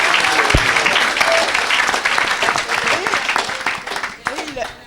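An audience at a church preaching event applauds in a sustained wash of clapping, with voices mixed in, gradually thinning toward the end.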